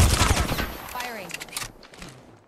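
Apex Legends gunfire rattles out in a rapid burst of close shots that trails off into fading echoes, with a voice heard over it.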